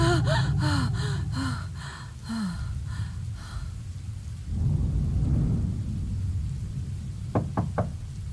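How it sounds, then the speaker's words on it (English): Thunderstorm in the horror adventure game The Charnel House Trilogy: a steady bed of heavy rain with a rolling rumble of thunder swelling midway, with scattered knocks and tonal game sounds early on and a few sharp clicks near the end. "Jesus, how bad is this storm?"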